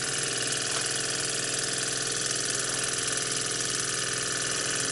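A small model steam engine, new straight out of the box, runs continuously with a steady, dense mechanical whir and rapid chuffing at constant loudness, close by and with no talk.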